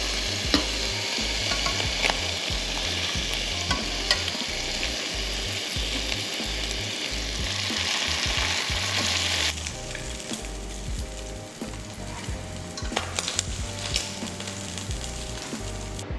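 Snapper fillet sizzles and fries steadily in a hot pan, a continuous loud crackle with occasional stirring clatter, its texture shifting partway through.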